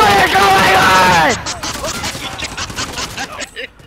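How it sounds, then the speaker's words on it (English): A minigun fires in a video game as a rapid, continuous rattle of shots, preceded by a loud shouting voice over the start. "It's a minigun, it's a minigun!"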